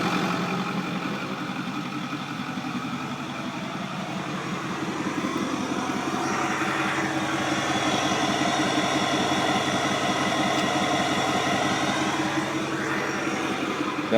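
A modified Ford 6.4 Powerstroke diesel with a 210 tune idles steadily, a low continuous rumble with a faint rhythmic clatter, holding even and fairly loud throughout with no talking.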